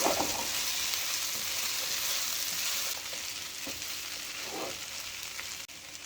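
Shredded beef fries in sofrito in a pan, a loud continuous sizzle close by, with soft scraping and stirring noises breaking through now and then and no talking.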